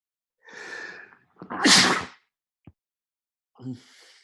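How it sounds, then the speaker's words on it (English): A single sharp sneeze with a quick intake of breath before it, followed by a small click and a soft exhale, in an otherwise quiet room. "I'm gonna sneeze."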